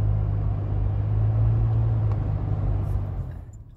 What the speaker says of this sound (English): I'm just gonna try to continue on driving without stopping for a while